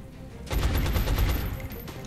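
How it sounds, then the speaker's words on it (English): Gunfire in XCOM: Enemy Within, a burst of sharp shots that starts abruptly partway through and continues as a dense, loud rattle to the end, with no talk. "There's another shot."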